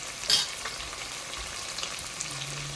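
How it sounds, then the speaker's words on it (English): Lentils being stirred in a cooking pot for a coconut soup, a soft, continuous bubbling sizzle with light scraping of the spoon, a brief louder clink near the start and faint background hum. "Then I stir just to make the mix well"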